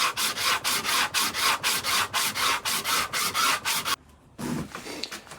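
Rhythmic rasping strokes of sandpaper on a wooden guitar neck, about two per second, steady and close, pausing briefly before resuming.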